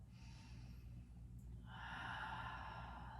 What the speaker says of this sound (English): Full deep breath.